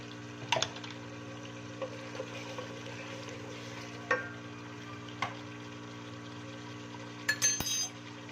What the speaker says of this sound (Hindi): तो और हम इसको भूनेंगे ताकि और मज़ीद अच्छे तरीके से मसाला हमारा